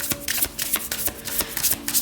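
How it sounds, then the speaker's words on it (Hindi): Tarot cards being shuffled by hand, a rapid run of crisp riffling bursts, close and fairly loud, with no talking. "तो चलिए शफल कर लेते हैं"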